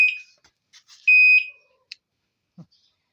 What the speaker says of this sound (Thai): อันนี้ปุ่มถอยหลังนะครับเดี๋ยว ผมถอยหลังเสียงดังมากนะครับ